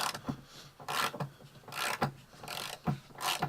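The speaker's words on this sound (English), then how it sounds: "Alright guys, so you're going to break this loose." Wrench working a motor mount bolt loose on an SRT-4: repeated ratcheting and scraping bursts in a steady rhythm, close and fairly loud, with no talking.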